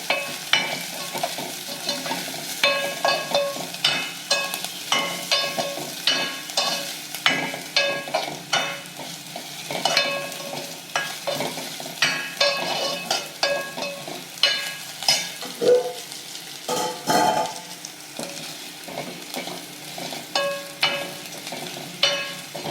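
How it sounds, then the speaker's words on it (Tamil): Garlic and cumin sauté in a little oil for Thoothukudi-style arai keerai kadaiyal, a steady close sizzle broken by repeated scraping strokes of a spoon stirring the pan, with no talk. "நல்லா வதங்கிடுச்சா, பூண்டு நல்லா வெந்துருச்சு"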